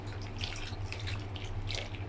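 Water trickles and splashes steadily into a pan, a close, continuous pour with a low hum running underneath.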